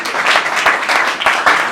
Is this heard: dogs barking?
no